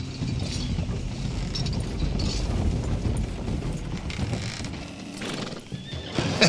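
A horse whinnies over the clatter of hooves and creaking, mechanical rattling in Red Dead Redemption 2, loud and close, with no one speaking.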